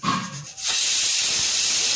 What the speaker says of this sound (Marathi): झाल्या कुकरच्या शिट्ट्या.